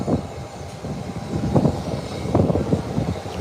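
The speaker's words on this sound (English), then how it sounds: "American Airlines flying in their Airbus 390 from Miami, Florida" An American Airlines Airbus airliner lands at Howard Hamilton International Airport, its engines giving a steady, fairly loud roar and rumble with gentle surges throughout, heard from a distance with no talking.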